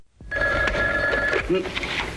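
A red telephone rings with a sharp electric bell trill, close and loud, sounding alone for about two seconds.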